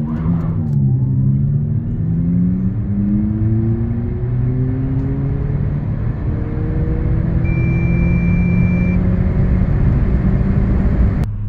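An Abarth 500e electric car accelerates hard from 0 to 100 km/h on winter tyres. A loud rising whine climbs steadily in pitch through the sprint under a continuous rumble of road and wind noise, with no voices.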